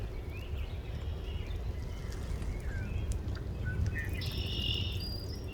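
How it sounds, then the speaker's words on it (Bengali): Several short bird calls and chirps ring out over a steady outdoor background of insects and low rumble, moderately distant, with no talking. "গাছে গাছে পাখি রয়েছে"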